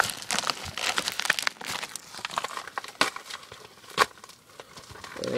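Crinkling and snipping as packaging is cut open with scissors, busy plastic rustles with a few sharper cuts, close and steady throughout.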